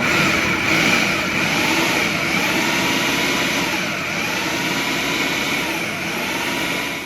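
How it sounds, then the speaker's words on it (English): A kitchen blender whirs steadily as it purées beef and organ meat with a pinch of salt, a loud continuous motor drone that holds constant throughout. "In the blender, now we blend."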